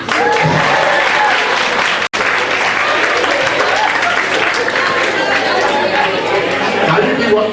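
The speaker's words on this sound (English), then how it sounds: "Another round of applause for your principal." An audience of children and adults at a school event in Kaduna applauds the school principal. The clapping is loud and sustained, with a short break partway through, while cheers and chatter mix in.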